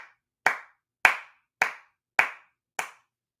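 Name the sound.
clapping from a Leo clapping gif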